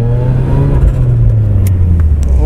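A homemade Pocket Rocket car drives with a steady, loud low engine drone and slight pitch drift, close by, with no talk over it.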